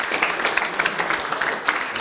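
Loud, continuous applause with distinct individual claps at a rugby event in Abruzzo, steady throughout, with a few voices mixed in.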